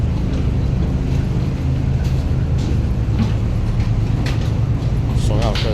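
Aboard the Kowloon City to North Point ferry, a loud, steady engine rumble drones throughout, with indistinct voices in the background.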